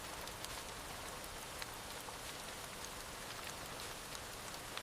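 Steady rain falling on a surface, a dense even hiss with scattered sharper drops, unbroken and fairly faint throughout.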